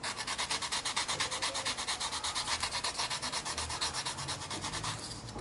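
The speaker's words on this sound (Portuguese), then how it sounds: "primeiro nós vamos lixar a borda aqui, essa parte que nós cortamos reto na bola" Sandpaper, 120 grit, rubs back and forth along the cut straight edge of an EVA foam ball, a rapid, even run of close scratchy strokes, about four or five per second, with no voices.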